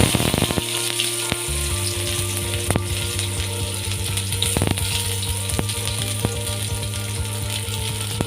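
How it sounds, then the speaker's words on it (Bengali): Chopped onions fry in hot oil, giving a loud, dense, steady sizzle for egg palong curry, with scattered sharp clicks and pops on top and a brief low rumble near the start. "পেঁয়াজগুলো আমি ভালো করে ভেজে নেব।"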